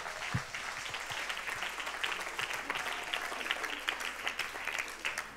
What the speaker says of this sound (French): que podet applaudir